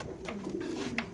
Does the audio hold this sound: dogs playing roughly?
no